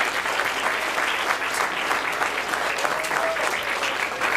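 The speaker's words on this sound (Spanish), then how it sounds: "Damos un aplauso a Cristo" Wedding guests applauding during a church ceremony right after the ring exchange, a steady, fairly loud round of clapping from a gathered crowd with no talk over it.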